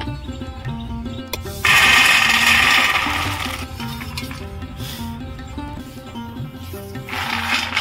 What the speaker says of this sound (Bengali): বাদামগুলো আমি হালকা ঠান্ডা করে নিয়েছি, তুলোর মধ্যে ঢেলে নেব।